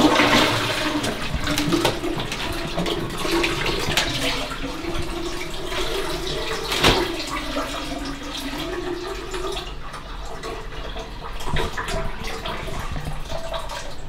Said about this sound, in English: Now I'm finna flush them